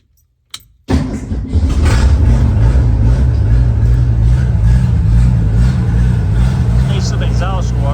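A 1966 Ford Mustang engine that needs exhaust work starts after a brief click, then runs loud and steady with a rough, throaty idle throughout, and a voice talks faintly over it.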